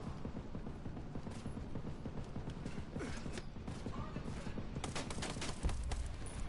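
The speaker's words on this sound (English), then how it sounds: "One of those turrets is out there shooting knives." Rapid mechanical firing from a turret launching knives in a first-person shooter game, a dense rattling volley running steadily throughout, with a sharper burst near the end and faint voices underneath.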